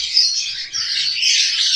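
Rainbow-coloured budgerigar giving shrill, raspy squawks and chirps, close and fairly loud, forming a nearly continuous call with one short dip, heard alone without any talking.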